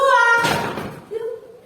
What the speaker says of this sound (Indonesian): silakan kakinya dihentakkan ke lantai.